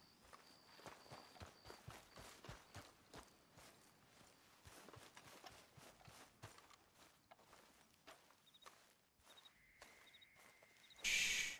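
Horse hooves in Red Dead Redemption 2, a steady clip-clop walking rhythm of soft, close hoofbeats, faint and regular, with a few short chirping tones and a brief louder rush at the very end.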